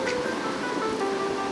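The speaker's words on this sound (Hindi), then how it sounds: "अब इसमें हम लेमन जूस ऐड कर रहे हैं।" Lemon juice poured into a face pack mixture of castor oil, a soft continuous liquid trickle heard close and fairly steady for a moment, with faint background hiss.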